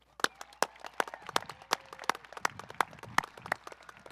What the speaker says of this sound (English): Let's give these special guests a round of applause